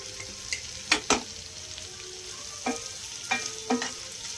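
Sliced onions and curry leaves frying with salt in hot oil for a prawn roast, with a steady close sizzle broken by a few sharp stirring scrapes and clicks.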